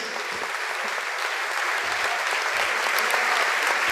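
Church congregation applauding during a sermon, a steady, full wash of many hands clapping that holds evenly and swells slightly toward the end, with no talk over it.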